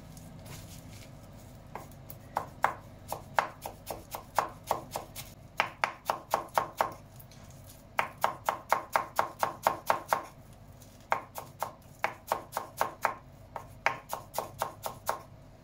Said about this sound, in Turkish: Maydanozumuzu güzelce doğradık.